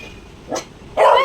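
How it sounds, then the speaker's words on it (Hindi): A dog barks indoors at home: a short yip followed by a louder, sharper bark close by, two quick sounds in just over a second. "किस पे भौंक रही है?"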